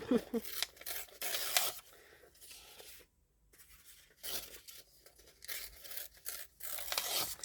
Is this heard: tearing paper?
yes